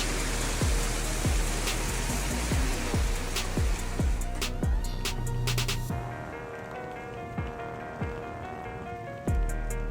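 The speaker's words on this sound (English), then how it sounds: "A fierce hailstorm covered northern New Mexico's roads in white, an unexpected winter blanket." Fierce hailstorm in northern New Mexico, a dense steady patter of ice striking the ground and surfaces nearby, with repeated low thuds underneath; the roar thins out partway through.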